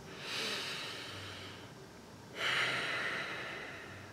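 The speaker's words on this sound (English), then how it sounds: "you just want to kind of take some gentle breaths here, some inhales, exhales" Two slow, gentle breaths close to the microphone, each a soft airy inhale and exhale that swells and fades, separated by a short quiet pause, with no talking.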